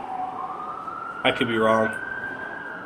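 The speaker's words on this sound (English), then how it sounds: "Don't mind that siren in the background." An emergency vehicle siren wails in the distance, a steady rising tone holding throughout, while someone speaks briefly over it in the foreground.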